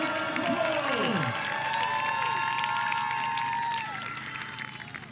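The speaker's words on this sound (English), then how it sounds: "Give them a round of applause." A football crowd at a varsity American football game applauds and cheers the Oxford Sirens cheerleading squad on the field, a steady broad roar with some tonal sounds running through it that thins out toward the end.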